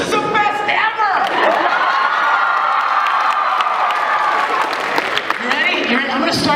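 A convention Q&A audience cheers, shouts and applauds loudly and continuously for several seconds, with whoops and children's voices in the crowd.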